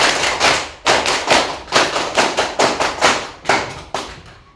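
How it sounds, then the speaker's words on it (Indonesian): An audience at a morning session claps out a rhythmic spirit chant, sharp grouped claps in a patterned beat, loud and close, with no talking over it. "Tepuk semangat."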